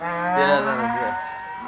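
A bull or cow at a Maharashtra livestock market gives a single drawn-out, loud and close moo that fades out after about a second.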